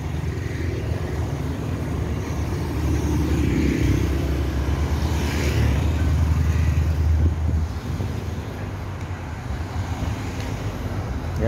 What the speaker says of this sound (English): One way traffic keep flowing and flowing non-stop.